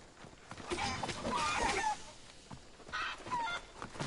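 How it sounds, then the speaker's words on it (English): Chickens in Assassin's Creed Odyssey give soft clucks and a few short squawks in a quiet game scene, fairly faint, without talk. "Hello, chickens."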